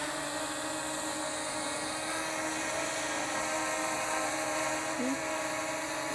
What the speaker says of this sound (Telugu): Finally drone.